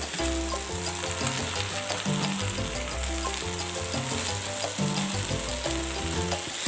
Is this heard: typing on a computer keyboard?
no